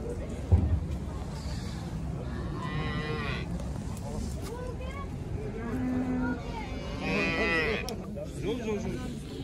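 Cattle low repeatedly amid a busy crowd at the Kyzylorda livestock market, their drawn-out moos rising over steady chatter and general market bustle.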